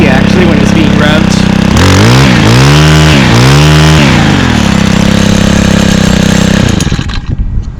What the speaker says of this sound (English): Sounds like an ATV actually when it's being revved.